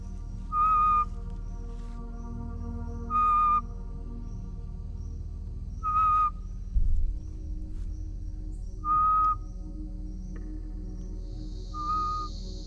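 A man whistles a specific high, steady note to call curious forest creatures such as flying squirrels in Kenya's Kakamega Forest, repeated five times in short evenly spaced bursts over a low background hum.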